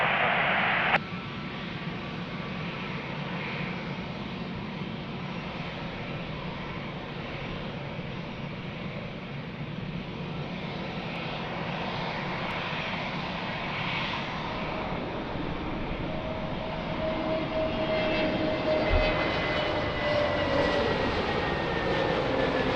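Airliner on short final to runway 02 at Lisbon Airport, a steady broad engine roar and rushing air that holds throughout and swells slightly toward the end, with no talk.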